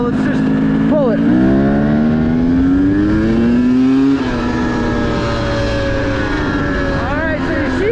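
A motorcycle engine fitted with an XTNG Gen3 Pro metering-rod carburetor pulls in third gear from low RPM, its loud, close drone rising steadily in pitch, easing, then climbing again with some hesitation.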